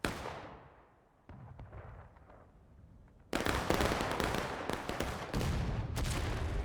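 A loud artillery shot from a Civil War cannon in War of Rights bursts out suddenly and sharply, with heavy battlefield rumble and scattered musket-like cracks continuing after it.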